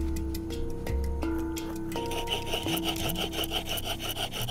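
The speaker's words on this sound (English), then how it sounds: "Nothing is gonna happen unless we get that sharp point of the spindle to generate some friction in our fireboard." A wooden spindle is rubbed rapidly against a fireboard to make fire by friction, giving a close, rhythmic wooden grinding and rasping with steady back-and-forth strokes.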